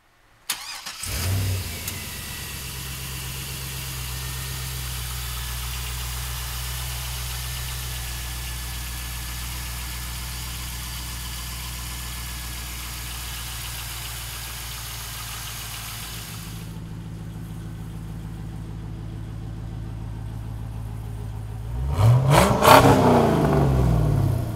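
A 2002 Pontiac Firehawk V8 catches, then settles into a steady, close idle for most of the stretch before a sharp rev near the end.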